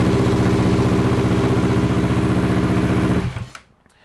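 Yamaha R3 motorcycle engine running steadily at a close, loud idle with a fast even pulse, then cutting off abruptly near the end into near silence.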